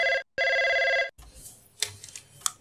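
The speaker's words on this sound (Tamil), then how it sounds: "தேன்மொழி தான் ஃபோன் பண்ணுறா" An old-style telephone bell rings loudly in two long bursts with a short gap between them, followed by quieter room noise and faint clattering, set in a Tamil television serial scene.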